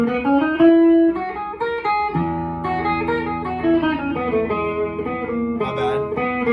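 An electric guitar plays a Lydian phrase, a major scale with a raised fourth, as a run of clear picked notes and chords through an effects unit, bright and up close.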